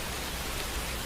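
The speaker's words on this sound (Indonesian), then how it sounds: "Aduh, masih hujan lagi." Steady rain falling at dusk, a dense even hiss of drops spread across the whole short stretch with no voices or other sounds standing out.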